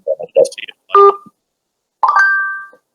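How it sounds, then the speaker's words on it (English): A mobile phone ringing with an incoming call: loud, close electronic tones in short bursts, then a sustained bright chime that fades after about a second. "It's my phone called by someone I don't know."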